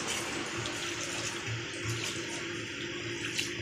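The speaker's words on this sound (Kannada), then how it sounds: "ಇದಕ್ಕೆ ನೀರು ಹಾಕಿ ಕಲಸುವ." Water poured into golibaje batter in a bowl for mixing, a steady close rush of running liquid lasting a few seconds, with no talk.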